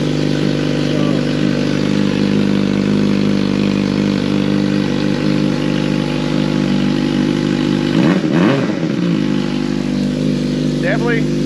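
A 2023 Suzuki GSXR 600 with a slip-on exhaust and deleted cat runs on a dyno, a loud steady engine drone throughout with a brief blip near the end and a voice talking over it.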